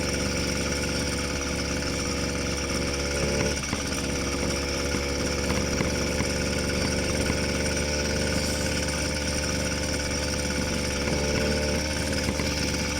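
A motorized bicycle engine runs at low revs on a winter ride, a steady buzzing drone with constant vibration that holds throughout with no pauses.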